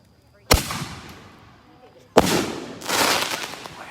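Wildcat cartridge fireworks at a Marietta fireworks show opening night: two sharp bursts a second and a half apart, the second followed by a dense crackling spray that swells again, heard from a moderate distance with faint voices underneath.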